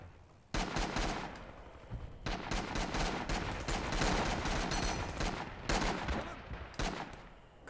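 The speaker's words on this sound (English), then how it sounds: "Couple of shots out there." Gunfire in the video game Rising Storm: a loud, sustained battlefield soundscape of repeated shots and bursts, with dense overlapping reports, some close and sharp, others more distant, continuing almost without pause.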